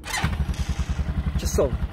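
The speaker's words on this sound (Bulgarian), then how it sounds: "Така трябва да палят всички АТВ-та в България" A brand-new ATV with a cold engine runs with a quick, even, low putter of regular pulses, close and steady, and a voice is briefly heard alongside.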